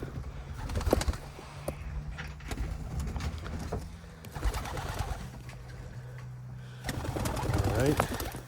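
Newly bought pigeons or doves coo repeatedly at close range, their soft throaty calls overlapping with shuffling, scraping movement and background voices throughout.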